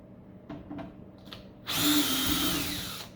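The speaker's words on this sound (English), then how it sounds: "Guess we'll just keep taking screws out until something comes apart." Power drill backing screws out of a large battery charger being scrapped, a few light clicks and then a loud close whirring run that starts abruptly and slowly fades.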